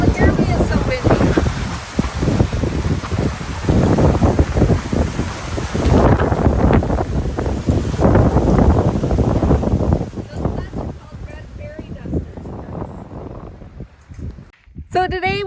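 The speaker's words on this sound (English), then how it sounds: "It's so windy." Strong wind buffets the microphone at a dispersed desert campsite near Borrego Springs, California, a loud continuous roar and rumble with people talking over it throughout, easing somewhat toward the end.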